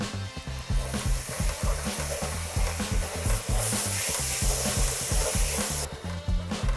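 Chili powder and garlic powder toast in a hot pan, giving a loud, close, continuous sizzle with steady rhythmic scraping stirs throughout, no voices.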